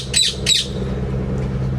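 Two sharp, harsh squawks from pet birds in quick succession near the start, close and loud, followed by a low steady background hum.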